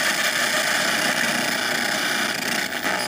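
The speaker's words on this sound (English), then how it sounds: "listen to the magnetic noises your cell phone is emitting" Electromagnetic noise from a cell phone running a maps app, picked up through a guitar pickup: a dense, steady buzzing hum with a faint whine, loud and constant for the whole stretch.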